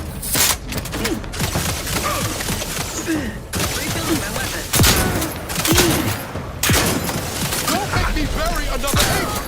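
Enemy gunfire in The Outer Worlds 2, a steady stream of overlapping shots and impacts through the whole stretch, loud and dense, with game effects and a voice speaking now and then underneath.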